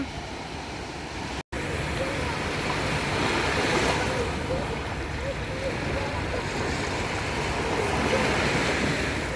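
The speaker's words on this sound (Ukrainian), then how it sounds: "Оце хвилі." Continuous roar of sea waves breaking on a shore at Durrës, Albania, with wind buffeting the microphone throughout.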